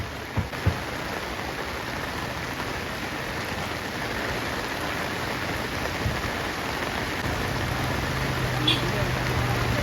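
Heavy rain pours down in a dense, even hiss, with a few sharp knocks early on and a low hum later.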